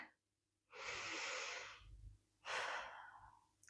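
Two slow breaths taken during a beginner's yoga pose, a long airy inhale or exhale followed by a second shorter one, soft and close, with no talking.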